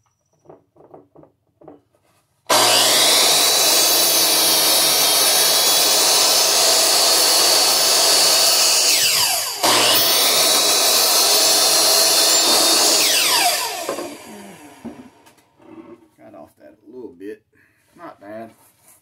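Power sander working wood for a shelf, a loud steady broadband whir that starts abruptly, runs about eleven seconds with one brief dip, then cuts off, with a few soft knocks and rustles before and after.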